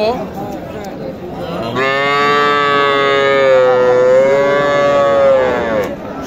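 A young bull calf at a cattle market gives one long, loud, drawn-out moo close by, rising slightly and holding for several seconds before breaking off.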